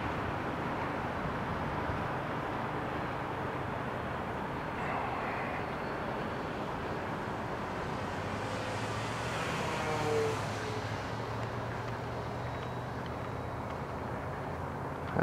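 An FMS B-25 bomber RC model airplane flies at half throttle with its gear up, giving a steady, continuous engine and propeller drone at even loudness, with a slight swell near the ten-second mark.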